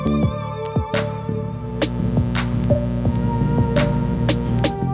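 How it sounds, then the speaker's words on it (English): Electrical interference hum effect from the iZotope Vinyl plugin, a steady low mains-style buzz with harmonic overtones layered over faint music, plus periodic clicks and pops throughout. "Okay, now next to that we have some electrical interference we can add, which sounds like this."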